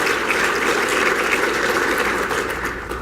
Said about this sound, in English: I'll pass along your applause for you